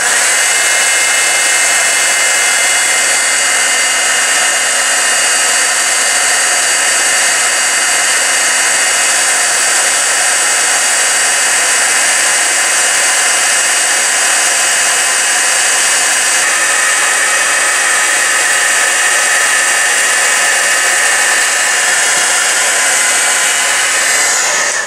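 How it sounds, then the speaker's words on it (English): Steady, loud whirring blast of an embossing heat gun held over embossing powder on paper, running continuously without a break and alone, with a slight shift in tone partway through. "You're going to hold the embossing tool straight up and down"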